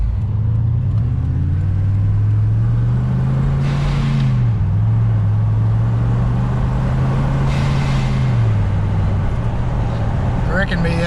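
A tuned Nissan Patrol engine idles and revs with a deep, steady drone, its pitch rising and falling twice, and a sharp blow-off valve hiss follows each rev, with a voice talking over it.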